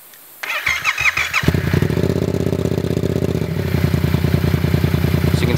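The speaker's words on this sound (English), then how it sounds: "Alright, Justin, go ahead and start up the bike." A Yamaha FZ-07/MT-07 motorcycle cranks with a few clattering turns, then fires up close by and settles into a deep, steady, loud idle.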